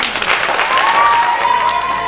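Audience applause for a final presenter at a young innovators event, loud and close, a dense burst of many hands clapping with a faint voice or tone underneath.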